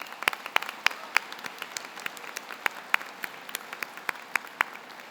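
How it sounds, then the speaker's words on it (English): Graduation-ceremony audience applauding school staff at a high school commencement: sparse, crisp claps from a modest crowd, a steady patter of individual hand strikes at moderate distance with no talk over it. "Join me in giving our staff a round of applause."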